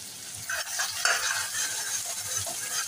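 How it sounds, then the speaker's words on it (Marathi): Chopped onion sizzles in hot oil in a pan, a steady close frying hiss broken by repeated scraping strokes of a spoon stirring it around, with no voices. "हा मोठा कांदा फ्राय करून घेऊया"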